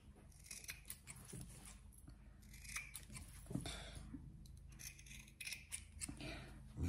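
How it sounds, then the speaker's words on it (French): Scissors snip through fabric and batting at the corners of a sewn seat-belt shoulder pad, giving a series of quiet, close, irregular cuts. "je vais couper tous mes angles."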